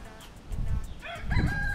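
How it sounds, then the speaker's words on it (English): A rooster crows in the Caribbean near a large moringa tree. The crow is moderately distant and rises over a low, rumbling outdoor background. "hear the rooster them"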